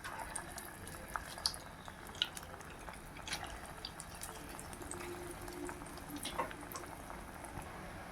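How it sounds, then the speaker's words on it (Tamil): Small drops of traditional adai-batter kunukku fritters sizzling in hot oil: a faint, steady crackle and bubble with scattered tiny pops throughout, and no voices. "எண்ணெய் நல்லா சூடாயிருச்சுங்க இப்போ கொஞ்சம் கொஞ்சமாக பாருங்கள் இந்த மாதிரி குட்டி குட்டி போண்டாவாக போட்டுக்கலாம்"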